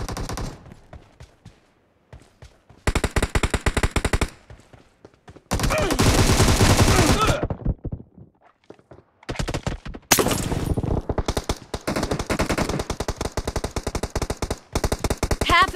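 Machine gun fire from BGMI team deathmatch on the Ivalo map, loud sustained bursts of rapid automatic shots separated by short quiet gaps, no talking.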